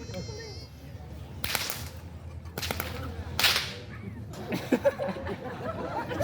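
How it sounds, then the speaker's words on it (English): Three sharp whip cracks ring out at a live comedy stage show, one man lashing a whip toward another, each crack a loud broadband snap spaced about a second apart, with crowd murmurs and scattered laughter around them. "It's just one man cracking whips at another man while a bunch of strangers watch."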